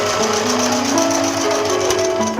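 A sewing machine running a straight stitch over elastic on a cloth mask, a loud continuous close whirring hum with a slight pitch shift near the end, no voices.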